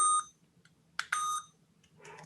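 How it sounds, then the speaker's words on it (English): A MiraMate laser therapy device beeps as it is switched on: a short electronic tone, a pause, then a sharper double beep, with faint background noise between and no talk. "push it on off a little bit longer, and hear the beep"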